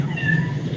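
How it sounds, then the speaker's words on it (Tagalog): A cat gives one short, clear meow close by. The call rises and then falls, and nothing else is heard. "Nagmimiyaw pa na pusa."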